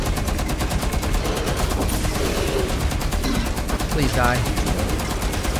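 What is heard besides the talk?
gunfire in video game Rainbow Six Extraction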